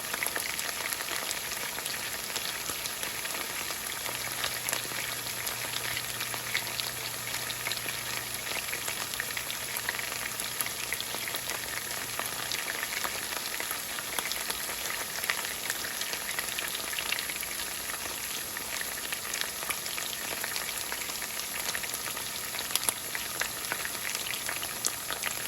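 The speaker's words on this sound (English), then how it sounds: "Listen to that sizzle." Chicken and rice sizzle in a hot pan, a close, continuous crackling hiss with fine popping that runs unbroken throughout, with no talk over it.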